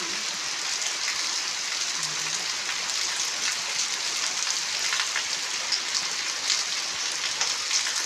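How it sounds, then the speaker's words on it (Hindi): Heavy rain pours steadily, a dense unbroken hiss of drops drumming on surfaces all around, with no voices. "आप देख सकते हैं कि कितनी तेज बारिश यहाँ पर आने लग गई है।"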